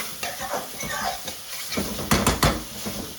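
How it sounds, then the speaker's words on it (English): Lamb with ginger garlic paste frying in a hot pan for a Bangladeshi lamb and potato curry, with steady sizzling, a few stirring scrapes and brief louder utensil clatters near the end. "That's a good teaspoon of ginger garlic paste in there, and get this all frying."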